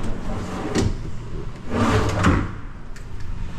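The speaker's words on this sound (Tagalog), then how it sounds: "Drawer, nagdagdag tayo ng mga drawer." A kitchen cabinet drawer in a renovated house slides open and shut, with a short rolling scrape and then a longer sliding run ending in a soft knock, close by and with no talk.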